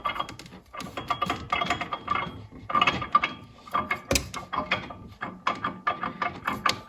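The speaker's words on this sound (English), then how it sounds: "as you can hear she's quite rattly" A worn old engine rattles quickly and irregularly, clanking and chattering close by, with one louder metallic clank partway through that hints at a loose upper wrist pin or needle bearing.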